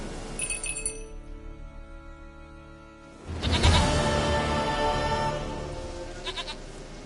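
A goat in The Witcher 3 lets out a long wavering bleat, then a second louder, rougher bleat follows amid faint clinking, close and clear with no talking.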